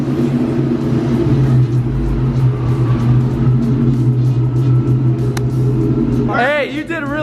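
A car rolls into a shop with a steady loud engine rumble and drone up close, with people talking toward the end.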